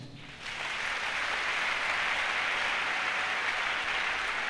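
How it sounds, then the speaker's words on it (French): A church congregation breaks into applause during a sermon: dense, steady clapping rises quickly after a brief quiet start and holds loud and even to the end, with no speech over it. "Acclamez Jésus"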